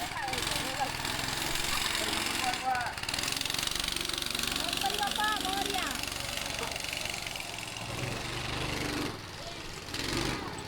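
Go-kart engines run on a karting track in Mahabaleshwar, a continuous buzzing, rattling drone with rising and falling revs as karts pass, while people talk over it.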